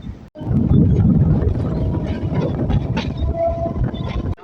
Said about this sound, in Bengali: ফাইনালি আমাদের ট্রেন শিয়ালদা জংশন থেকে ছেড়ে দিয়েছে